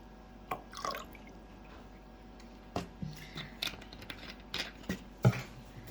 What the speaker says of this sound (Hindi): इसके बाद मैं इसमें रोज़ वाटर ऐड कर रही हूँ